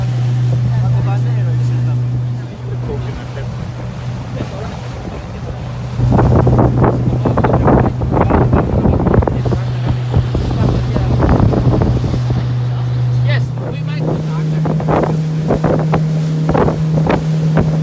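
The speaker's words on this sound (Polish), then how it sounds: "Ładujemy się na łódkę i zobaczymy, co dzisiaj złowimy." A motorboat carries divers out on the water for a fishing trip, a steady low engine drone with heavy wind buffeting the microphone and splashing bursts, the engine pitch rising near the end.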